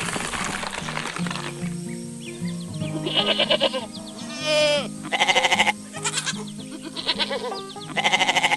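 A cartoon white goat rides along in a green truck around a plant-filled farm pen, giving several loud, clear bleats in short bursts over a bouncy musical background.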